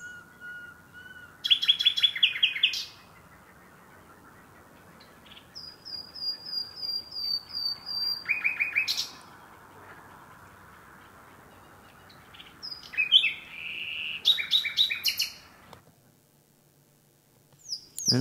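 Thrush nightingale song: loud, clear phrases of rapid chirps, whistles and rattling trills in three bursts, separated by quieter stretches over a soft background hiss.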